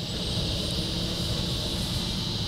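An E-flite Air Tractor 1.5 RC plane, running on a 3S LiPo, taxis across grass; its electric motor and propeller give a steady, close, continuous whine and buzz with no pauses.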